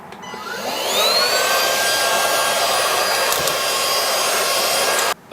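A household vacuum cleaner pulls dust out of a Leopold mechanical keyboard. The motor spins up to a loud, steady whine that holds for about five seconds and then cuts off abruptly, with no talking over it.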